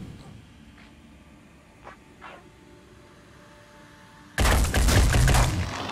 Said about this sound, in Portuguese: Ou a gente pode só atirar aqui.